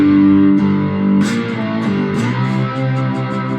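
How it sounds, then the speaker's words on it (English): Metal slide grinding across the strings of a cigar box guitar tuned to open G, pushed through a heavily distorted Roland Cube amp, playing loud, sustained chords and a sliding riff with no talking. "I've got a metal slide, which gives it that kind of grinding sound."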